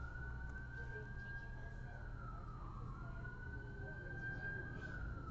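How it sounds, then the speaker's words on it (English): A distant wailing siren slowly rising and falling in pitch, faint beneath a steady low rumble of background noise. "We got sirens in the background."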